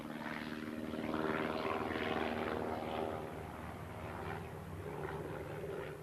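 A dated aircraft on a test spin in less than ideal weather, its propeller engine droning steadily at a moderate distance, swelling slightly and then easing back, with no voices.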